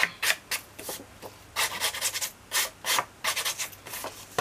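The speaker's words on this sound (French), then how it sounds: "je vais vite fait limer ici" Rapid back-and-forth strokes of a hand file rasping across a surface, about a dozen raspy scrapes in an uneven quick rhythm, close by and clear with no talking.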